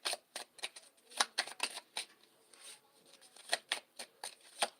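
Handmade rune cards being shuffled, a quick series of crisp papery riffles and flicks in uneven bursts, close and fairly quiet with no talking.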